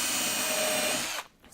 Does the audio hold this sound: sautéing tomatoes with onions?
no